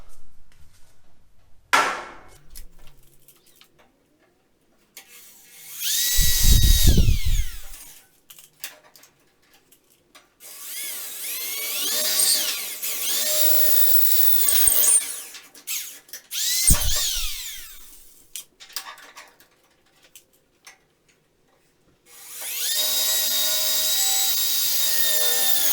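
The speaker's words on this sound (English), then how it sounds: "let's start putting some holes in some metal" Power drill boring holes in metal for a DIY universal HOTAS chair mount, running in several whining bursts of a few seconds each, with quieter handling and scraping in the pauses.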